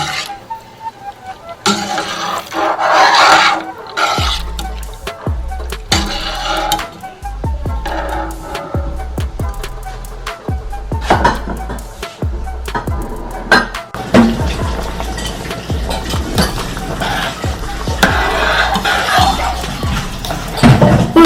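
A ladle stirs a large pot of Kerala Ada Pradhaman, a dessert made for 25 with canned coconut milk, giving irregular metallic clanks and scrapes against the pot, loud and close, repeating at uneven intervals.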